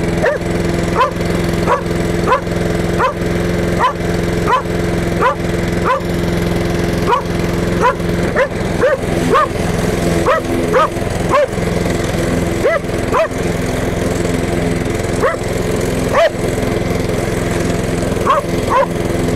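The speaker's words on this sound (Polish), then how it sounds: "Jak widzieliście, kosiarka działa" Lawn mower engine running steadily after being readied for the season, a loud, close, continuous motor drone with repeated sharp clicks and knocks throughout and a dog barking at intervals.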